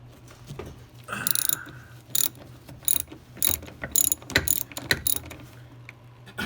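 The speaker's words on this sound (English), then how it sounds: "remove these nuts to free up the master cylinder. And that's just a standard 13mm" A ratchet clicks in quick bursts as standard 13mm nuts are loosened to free the master cylinder on a Porsche 914, sharp close ratcheting with short pauses between strokes, with no talk.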